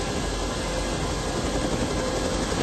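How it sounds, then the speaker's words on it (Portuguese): Helicopter footage playing back, a steady broadband rotor and engine roar that holds evenly throughout with no voices over it. "Já pilotou, já tá com um helicóptero"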